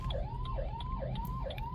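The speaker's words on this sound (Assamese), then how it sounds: "চাই মোৰ পুৰা ছাইডত লাগিছে এখন এম্বুলেঞ্চ" An ambulance siren wails in heavy road traffic, a loud, close, rising-and-falling cycle repeating about every half second throughout.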